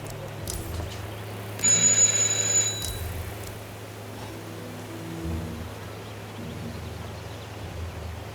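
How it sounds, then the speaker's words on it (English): A doorbell rings once inside a mansion in the stealth video game Hitman 3, a bright, clear electronic chime lasting about a second over a low ambient hum, with no talking. "Just ring the doorbell."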